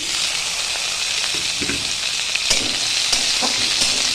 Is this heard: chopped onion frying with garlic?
yes